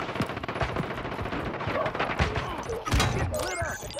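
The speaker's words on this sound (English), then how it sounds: "He's still shooting at me." Automatic gunfire in a Call of Duty match, rapid bursts of shots with thuds mixed under game chatter and voices, loudest near the three-second mark.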